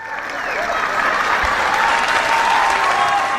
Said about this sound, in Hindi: round of applause Raju sir के लिए